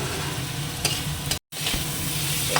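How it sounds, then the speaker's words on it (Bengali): Potatoes fry in a well-cooked spiced masala with chili powder, sugar and salt, a loud continuous sizzle with stirring scrapes, briefly cutting out for a moment midway. "এবার আলুগুলো দিয়ে দিই।"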